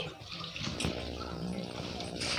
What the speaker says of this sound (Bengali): এবার বৌদি জল দিয়ে দিল